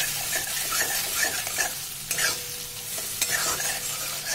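Fried pointed gourd being stirred into a poppy seed paste with radhuni and green chilli paste, giving repeated scraping stir strokes over a soft, steady sizzle, close and fairly loud with no talking.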